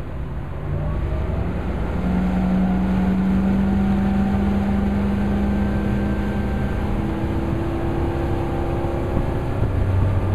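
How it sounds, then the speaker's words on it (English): A boat driven by a Mercury outboard with active trim speeds up. Its engine gives a steady, loud drone with rising tonal whine over a constant wash of water and wind, and no one speaks. "As I accelerate, it'll trim under, and as we gain speed, it will trim the boat out to its best position for optimal fuel economy."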